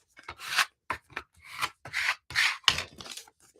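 Paper is folded in half and scraped flat to set the crease while making a handmade Valentine journal: a series of short, dry rubbing strokes, close and fairly quiet, with brief pauses between them.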